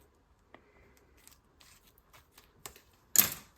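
Scissors snip once through a plastic piping bag near its tip, a sharp, close crisp cut following faint rustling handling sounds in a quiet kitchen.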